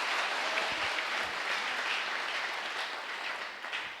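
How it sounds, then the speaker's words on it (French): A church congregation applauding and cheering, a dense, continuous wash of clapping that stays loud and gradually fades slightly toward the end, with no talk over it. "Quelqu'un acclame le Seigneur."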